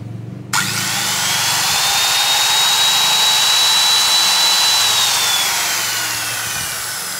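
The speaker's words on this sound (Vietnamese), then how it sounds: "Cưa thân dọc" A handheld power saw, with its blade freshly fitted, starts abruptly and then runs at a steady, loud, high-pitched whine with no load, unbroken for several seconds and close by.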